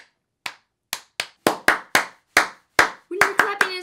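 Hands clapping to set off the lights on a Mattel toy, about a dozen sharp claps, slow and spaced at first, then faster, with a brief tone from the toy near the end.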